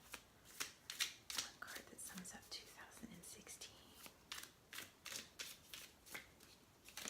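Small tarot cards are shuffled close up in a steady run of crisp riffling snaps and card slaps, with soft breathy sounds between the strokes.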